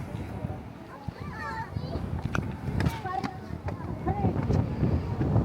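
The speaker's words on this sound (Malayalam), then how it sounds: "നല്ല കാറ്റ്." Strong wind sweeping across Rock City, a gusty, rumbling roar buffeting the microphone throughout, with children and adults talking over it.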